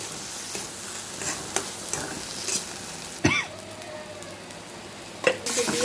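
Garlic cloves and green chilies frying in a pan, stirred now and then: a steady soft sizzle with a few sharper scrapes and clicks of the spoon against the pan.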